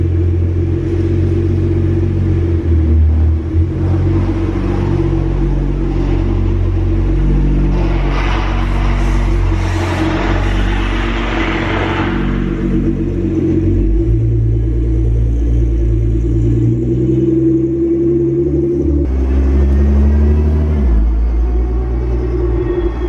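A 1000-horsepower Nissan GT-R with LM-1000 spec tuning, its engine rumbling loudly and close throughout as the car drives and accelerates, with rising revs and surges of engine noise and no talking.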